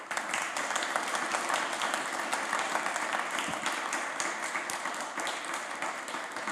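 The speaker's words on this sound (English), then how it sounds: "That was a nice warm round of applause." Sustained audience applause filling a conference room after a guest is introduced at a design forum on space exploration, steady dense clapping at even loudness with no voices over it.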